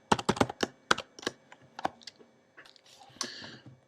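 Quick bursts of keystrokes on a computer keyboard, about a dozen close, crisp clicks in uneven rhythm, then a short pause before a final cluster of taps, with no talking.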